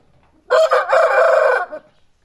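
A single loud rooster crow rings out close by, a sustained cock-a-doodle-doo lasting about a second against otherwise quiet surroundings.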